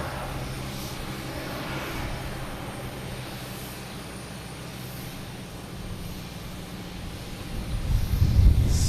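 A NetJets Cessna Citation Latitude business jet at Boston Logan produces a moderate, distant engine whine and rumble with wind noise, swelling louder toward the end, with no talk.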